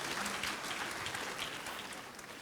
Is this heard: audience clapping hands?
yes